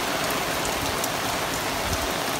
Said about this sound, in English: it's pouring rain and it just starts to let up